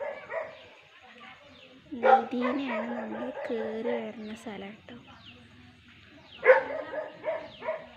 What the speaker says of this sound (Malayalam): എൻ്റെ നായ്ക്കൾ കുരയ്ക്കുന്ന സൗണ്ടൊക്കെ ഉണ്ടാവും